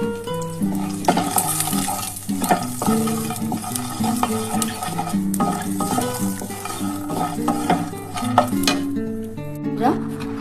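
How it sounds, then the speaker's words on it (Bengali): Bori lentil dumplings frying in hot oil for a lau shak chorchori, a steady close sizzle with frequent clinks and scrapes of a utensil stirring in the pan, no talking. "তেলটা গরম হয়ে গেছে, এই বড়িগুলো প্রথমে আমি ভেজে তুলে নেব।"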